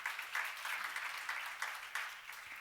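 A church congregation claps together during a sermon, a short burst of steady, fairly faint applause from a crowd indoors.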